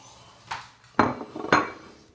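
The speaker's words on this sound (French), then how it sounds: "On va mettre le sucre, l'eau dans une casserole." A saucepan holding sugar and water for caramel is set down in the kitchen, giving three short metallic clanks and clinks, close and fairly soft, with no talk.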